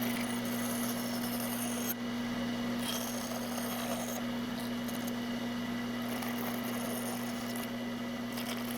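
A wooden swimbait lure being cut with a power tool, a steady close whine with a constant hum beneath and light scraping texture throughout.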